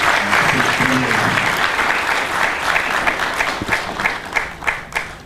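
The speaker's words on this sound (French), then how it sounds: "je voudrais que nous puissions applaudir Madame Rina qui a eu l'initiative d'organiser cette première" An audience at a Christian literature fair in Kinshasa applauds, the clapping dense at first and thinning to scattered claps toward the end, with voices briefly audible underneath.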